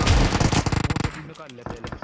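Rapid automatic gunfire in the mobile battle royale game PUBG Mobile, a dense burst of close shots followed by scattered, fainter distant reports.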